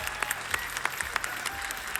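Studio audience applause on a televised Armenian pop music competition, a brisk patter of individual claps standing out over a low music bed, moderately loud and continuous.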